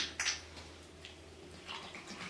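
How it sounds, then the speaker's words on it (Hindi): Cold water from a bottle is poured into mango juice with ice, producing soft, faint splashing and gurgling bursts that come and go over a couple of seconds. "एक पानी की बोतल मैंने ली है, ये ठंडा पानी है। अब मैं इसमें पानी डालूंगी।"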